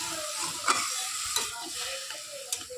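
Taro stolons (kochur loti) frying in a pan as a little water goes in, giving a steady close sizzle with a few sharp spatters and stirring scrapes, no talk.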